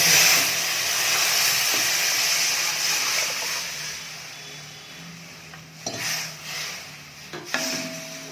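Rasam liquid is poured over rasam powder roasting in a hot pan, setting off a loud, close sizzle that fades gradually, followed by a couple of sharp clinks of a spoon or vessel.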